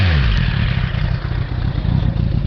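A Suzuki Bandit 1200 motorcycle with an aftermarket exhaust, close by and loud, its engine running with a rough, throbbing, clattery idle and slight revving.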